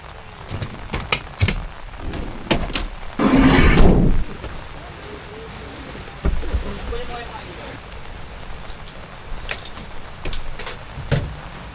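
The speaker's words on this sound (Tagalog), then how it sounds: "Lumalakas na yung ulan." Rain on a camping trip at the foot of Mount Arayat, a steady hiss of falling drops with sharp taps and a surging gust-like swell midway, plus scattered bumps and brief voices nearby.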